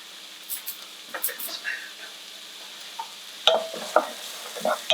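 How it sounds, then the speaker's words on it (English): Onions cook in a pan on an electric hob for spaghetti bolognaise, a faint background sizzle broken by clinks and scrapes of stirring that grow busier toward the end. "now obviously we want this to cook for a while until the onions are soft"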